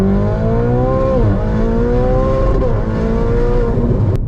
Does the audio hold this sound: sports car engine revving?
yes